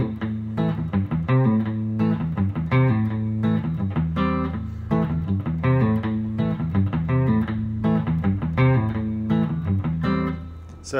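Chicken pickin' rhythm on electric guitar at normal speed, the low sixth string muted, produces a continuous, bouncy stream of crisp plucked notes and chord stabs with a steady groove, close and prominent, with no talking.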